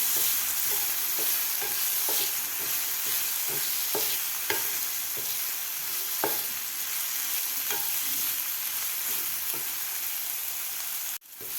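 Tomatoes and onions sauté together in a pan for a dry cowpea-pod bhaji, giving a steady close sizzle broken by regular spatula scrapes and taps, with no talking, before the sound briefly cuts out near the end.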